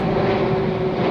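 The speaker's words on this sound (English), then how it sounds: "Excuse the plane." Airplane passing overhead above a Sydney park, a steady droning engine hum with a sustained tone, loud and continuous over the short stretch with no one talking.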